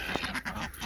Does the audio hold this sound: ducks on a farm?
yes